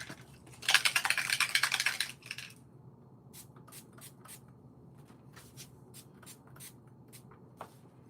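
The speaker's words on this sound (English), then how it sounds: "we're just going to give it a little squirt of shimmer spray" A few quick hissing squirts of shimmer spray misted onto handmade pearl-decorated cards, a dense spray burst near the start followed by sparse soft ticks and rustles, close and fairly quiet with no talk.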